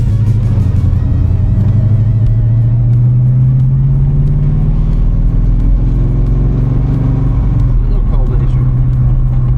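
A black 1974 De Tomaso Pantera engine revs and rumbles loudly as the car pulls out of a garage, its pitch rising steadily over a few seconds while people talk over it.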